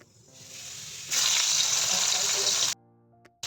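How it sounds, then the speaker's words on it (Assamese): Fish frying in a little oil in a pan over very low heat, a steady sizzle that swells louder midway and then cuts out abruptly near the end. "এতিয়া মই মাছখিনি ভাজি আছোঁ মই একদম কম জুইত"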